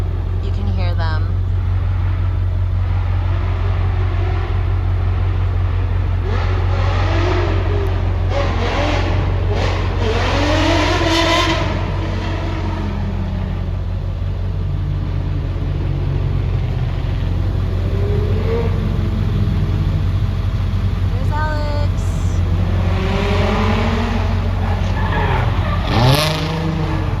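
Drift cars at a touge event on an Appalachian mountain road, engines revving and rising in repeated sweeps with tire skid noise, loud and continuous over a steady low rumble, with people talking nearby.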